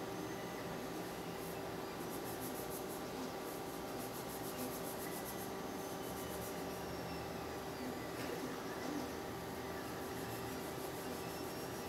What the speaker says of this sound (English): Slaughtering my sandpaper, Jesus.